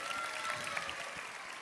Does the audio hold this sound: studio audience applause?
yes